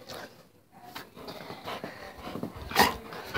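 A dog whimpers and gives a short sharp bark indoors, the whines faint and scattered before one louder yelp near the end.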